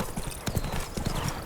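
Horse hooves pound in a steady galloping clip-clop in Witcher 3, close and continuous, with a soft background voice faintly underneath.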